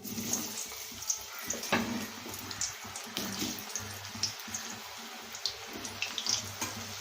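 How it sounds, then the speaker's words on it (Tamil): Young jackfruit pieces frying in hot oil, a steady fine sizzle and crackle with irregular pops and bursts running throughout, moderately loud and close, with no talking. "இந்த பெலாப்பிஞ்சை நம்ம வந்து எண்ணெயில் பொரித்து எடுத்துக்கணும்"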